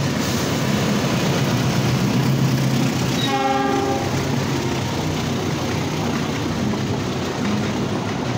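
The Cikuray Express passenger train rumbles past Garut station loudly and continuously in the rain, with a short horn blast partway through and a steady roar of rolling wheels.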